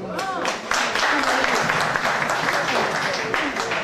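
Applause rises from the audience at a community reunion evening in Brussels, a dense, sustained clapping from a sizable crowd, with voices talking and calling out beneath it.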